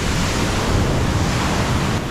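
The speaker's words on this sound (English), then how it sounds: "look at the big waves" Big ocean waves crash onto the shore at Tobago in the early morning, a loud, continuous roar of surf mixed with heavy wind buffeting the microphone, with no voices.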